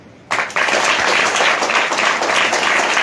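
Loud applause bursts out from a prayer-meeting congregation and holds steady, dense and close, with no voice over it.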